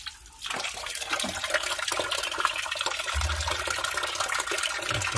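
Sorrel leaves are washed under running water, a continuous splashing and gushing flow close by with small clatters and drips throughout, no voices.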